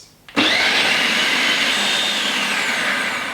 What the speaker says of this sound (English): put it in the bowl of food processor, puree until minced